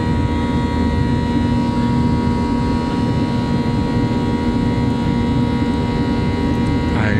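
A passenger airplane engine drones steadily in flight, a constant loud hum with sustained tonal whine heard from inside the cabin on a flight to Greece.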